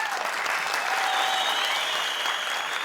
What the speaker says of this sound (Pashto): په ویاړې چکچکې